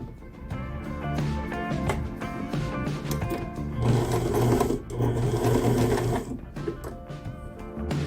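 A sewing machine stitches along the edge of fabric while sewing a loose dress, running in a fast steady whirring rattle with brief pauses and speed changes, close and clear with no talking.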